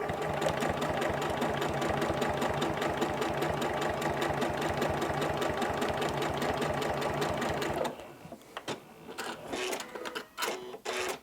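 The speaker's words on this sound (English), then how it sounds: "let's try the next line of stitching" Sewing machine stitching a straight seam line, running steadily with a fast even needle rhythm close up for about eight seconds, then stopping, followed by a few light clicks and handling sounds.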